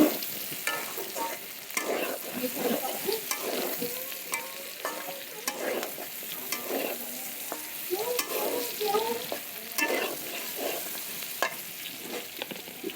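Onions frying in oil together with potato and pumpkin for a vegetarian dish, with a steady close sizzle and repeated stirring scrapes of a spatula in the pan, no talking.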